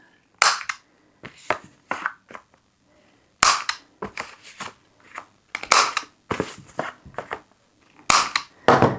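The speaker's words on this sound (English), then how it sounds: "I'm just going to put them together, round all of the corners" A corner rounder punch clips the corners of stacked paper journal cards, giving a run of sharp, close snapping crunches in irregular bursts with short pauses between them, no voices.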